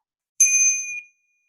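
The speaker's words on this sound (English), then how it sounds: "I have a bell." A small bell from a Buddhist temple in Japan struck once, giving a bright, clear ring with a high metallic shimmer that decays over most of a second before fading out, close and alone.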